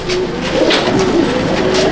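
Pigeons coo in a loft, soft repeated throaty calls close by that overlap in a steady murmur, with no talking.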